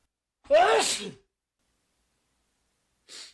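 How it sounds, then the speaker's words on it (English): A single loud sneeze bursts out near the mic, followed by a short pause and a faint breathy sniff. "I'm going to sneeze."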